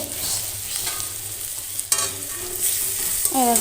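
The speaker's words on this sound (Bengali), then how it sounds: "একবারে কষিয়ে নিচ্ছি" Steady frying sizzle of spices in a wok with scraping strokes of a spatula stirring, continuous and close, with a louder scrape near the end.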